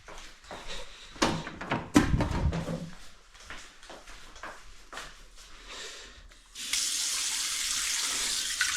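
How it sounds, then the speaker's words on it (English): A kitchen sink tap runs while dishes are washed up, with clinks and knocks of crockery at first, then a steady, loud stream of running water filling the basin. "Do some washing up, stay ahead of myself, save me doing it later."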